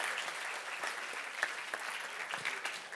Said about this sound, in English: Applaud to Owen Jones.